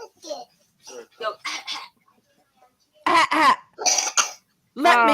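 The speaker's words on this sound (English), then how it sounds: "That definitely sounds like a hacky cough" Several short, raspy throat-clearing coughs in quick bursts, the later ones louder and harsher, close up with brief pauses between.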